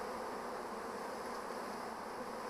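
A honeybee swarm buzzing steadily while being hived into a log hive, a faint, even drone from many bees with no talking.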